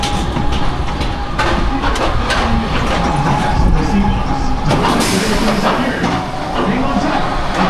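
A Vekoma suspended looping coaster, Twisted Typhoon at Wild Adventures, roars loudly and steadily on its track with heavy rumbling wheel noise, heard from on board, with voices faintly mixed in.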